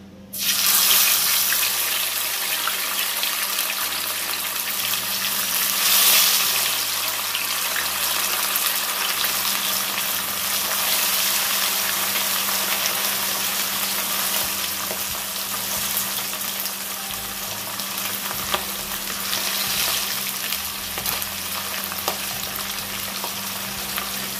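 Fish pieces fry in blazing hot canola oil, giving a loud, continuous crackling sizzle that holds steady close by with no talking over it.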